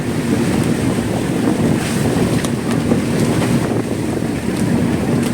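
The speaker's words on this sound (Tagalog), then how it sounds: "Lakas ng hangin." Strong wind roars continuously around a tarpaulin shelter, with loud buffeting gusts and rushing noise hitting the microphone and no voices heard.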